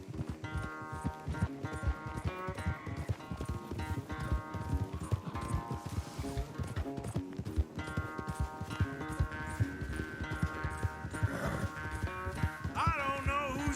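A horse gallops in a race in Red Dead Redemption 2, with steady rapid hoofbeats throughout under a continuous musical score and occasional faint voices.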